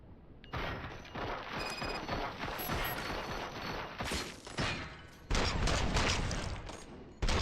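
Sustained gunfire in the RoboCop: Rogue City video game, a dense rattling barrage with crashes and mechanical clatter running nearly nonstop, loud and close, with no speech over it.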